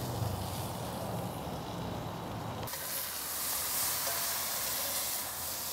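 A ribeye steak sears in a hot pan, giving a steady, fairly quiet sizzling hiss that brightens and grows fuller partway through, as if after a flip, and goes on without talk.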